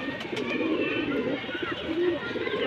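Pigeons coo softly and repeatedly nearby, a low, rolling murmur that continues throughout.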